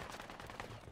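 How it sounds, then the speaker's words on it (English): Dense, rapid gunfire in the military shooter Project Reality, a brief loud burst with shots crowding together and no pauses. "There's a sniper on top of one of the silos."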